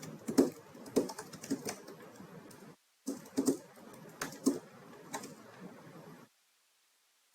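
Fast, close keystrokes on a computer keyboard while a new card is set up in a budgeting web app, arriving in two bursts of clicky taps separated by short silences, with no voices.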